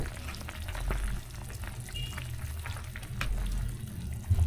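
Chicken and bitter gourd are stirred in a pan, giving steady low simmering and frying noise with scattered scraping clicks of a utensil across the whole stretch, and no talk.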